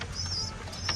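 Pigeons coo in soft, low rumbles close by at a pigeon race, with a thin high whistling tone drifting over them.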